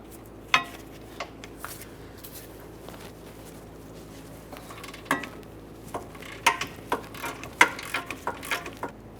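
A wrench breaks a rear upper control arm bolt free on a 2015–2019 Subaru Outback. Scattered metallic clicks give way to a quick run of ratcheting clicks and clanks, close and fairly crisp.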